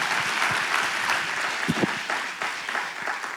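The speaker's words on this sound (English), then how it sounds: "So let's one more round of applause thanking all of our sponsors." An audience at a business forum gives a round of applause for the event's sponsors, dense continuous clapping close and loud from start to end.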